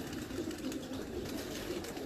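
Domestic pigeons from a fancier's own bred line coo in soft, low murmurs close by, a steady throaty burble running through the whole stretch with faint background hiss and no talking.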